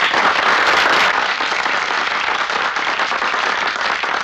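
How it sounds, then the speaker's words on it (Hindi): A crowd claps and applauds steadily and densely throughout, a continuous wash of many hands without pause. "मत बजाइए तालियां"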